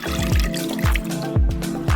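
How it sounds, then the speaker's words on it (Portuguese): Red wine poured over meat in a pan on the stove, a close, steady liquid trickle with several short splashing surges, no voices. "Despejamos em cima o vinho tinto,"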